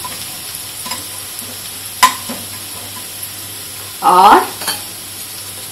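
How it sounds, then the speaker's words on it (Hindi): Cumin seeds stirred in a hot pan while cooking healthy masala rice, giving a soft steady sizzle with a brief scraping burst of stirring; a voice speaks briefly. "इसके बाद हम इसमें डालेंगे ये जीरा, इसे थोड़ा सा चलाएंगे"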